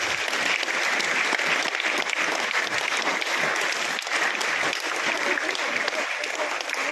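A crowd gives strong, sustained applause for teachers at an exam-related school gathering, an even, continuous roar of clapping lasting several seconds.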